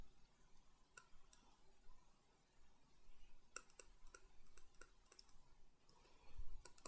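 Calculator buttons being pressed give sparse, light, sharp clicks, some single and some in quick runs, over a faint room hiss.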